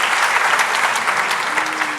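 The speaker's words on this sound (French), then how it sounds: "On peut applaudir le professeur Nicolas Henrard" Steady, dense applause from an audience honoring professor Nicolas Henrard at the University of Namur's 2023 academic opening ceremony, filling the hall evenly from start to finish.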